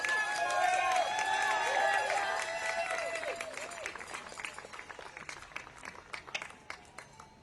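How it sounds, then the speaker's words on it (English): Applause and cheering from a crowd at a rally supporting survivors and victims swell loudly at first, then thin out into scattered, fading claps, with some voices mixed in. "Give a big round of applause to all the survivors and all the victims and all the supporters today."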